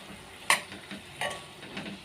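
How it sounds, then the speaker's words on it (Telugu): Ivy gourd curry frying in a pan, a spoon stirring through it with a few distinct scraping clinks over a faint, soft sizzle, close and quiet with no voices. "ఇప్పుడు దొండకాయ అనేది కొంచెం ఫ్రై కావాలి"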